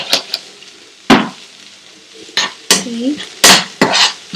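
Prawn vindaloo masala with garam masala and curry powder being stirred in a pan: sharp metal spoon scrapes and clanks strike at irregular intervals, close and fairly loud, over a faint sizzle, with a brief spoken word.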